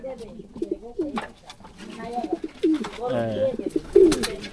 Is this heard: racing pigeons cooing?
yes